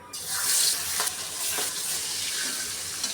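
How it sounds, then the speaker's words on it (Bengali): Fish coated in dry spice rub sizzles steadily in hot oil in a heated wok, a loud continuous frying hiss with a few soft stirring clatters, close and alone. "এখন আমি তেল দিয়ে দিলাম এখন আমি মাছ দিয়ে দেবো"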